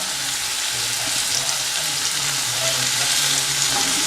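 Masala-coated eggs sizzle and fry steadily in a hot pan as they are rotated, a continuous close crackling hiss with no talking.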